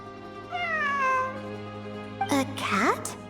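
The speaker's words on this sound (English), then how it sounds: "It really is a cat." A cat gives a drawn-out meow, then a second, sharper, rising meow a moment later, both fairly close and clear over a low, steady background hum.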